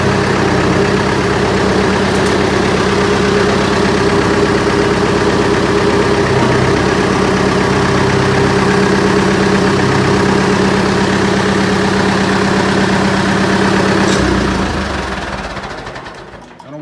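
An old David Brown 990 tractor with a fuel leak runs loud and steady close by, a continuous rough engine drone that holds evenly for about fourteen seconds, then winds down and dies as it is shut off.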